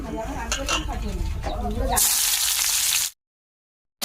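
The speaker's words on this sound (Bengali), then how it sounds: "তেলটা গরম হয়ে গেছে দিয়ে দেব পেঁয়াজ লঙ্কা" Someone talks briefly, then onion and chilli hit hot oil with a sudden loud hiss that sizzles steadily for about a second before cutting to silence.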